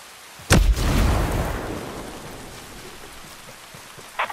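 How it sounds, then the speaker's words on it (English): Gunfire and explosions in the video game Ghost Recon Breakpoint, a sudden loud blast followed by a long rumbling roar that fades out, then a brief sharp crack near the end. "I hear gunfire."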